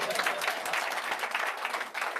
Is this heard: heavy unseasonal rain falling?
no